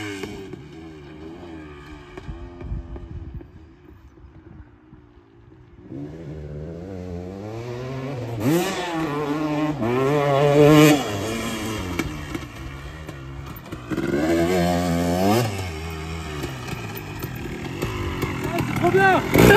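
A 250 KX dirt bike engine runs without being pushed hard, its throaty rumble rising and falling through moderate revs for about twenty seconds, loud and close, with people talking over it.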